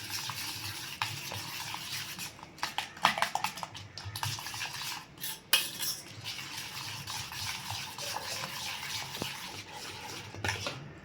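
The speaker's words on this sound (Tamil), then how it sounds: "இது எல்லாத்தையும் சேர்த்து ஒன்றா பீட் பண்ணிக்கலாம்" Rapid, irregular scraping and clinking of a utensil beating eggs with spices in a bowl for an omelette, close and fairly quiet, with no talking.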